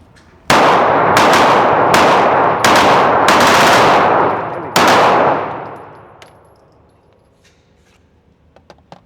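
Glock 25 Gen 3 pistol fired at a range: five loud, sharp shots in quick succession over about four seconds, each ringing out and echoing, then a fading tail into quiet with faint clinks.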